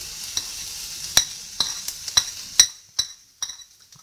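Onions fry in a pan with turmeric, a faint sizzle under sharp, separate scrapes and clinks of a spoon stirring, about eight strokes in a few seconds.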